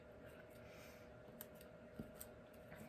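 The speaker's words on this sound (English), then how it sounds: "So I'm just going to poke these out with my scissors." Quiet, soft snips and pokes of scissors poking out paper pieces, a few small taps scattered over a faint background hiss.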